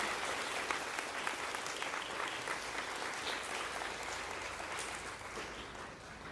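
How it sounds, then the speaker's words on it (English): Sustained audience applause at a fifth grade farewell ceremony, dense steady clapping from a crowd that holds for several seconds and eases slightly toward the end, heard at moderate distance with no talking. "let's give them one more round of applause."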